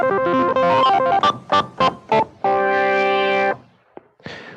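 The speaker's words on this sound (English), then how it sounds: "When you first choose a user envelope, the default settings sound like this." A Kurzweil K2500 synthesizer plays a patch with the default user envelope: a quick run of notes, several short detached stabs, then one long sustained bright chord that cuts off, followed by short faint blips.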